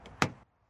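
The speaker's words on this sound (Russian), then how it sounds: "И ручка двери." Door handle of a 2026 Toyota Corolla Cross being pulled: one short plastic click-clack up close, followed by a brief quiet gap and a faint second touch.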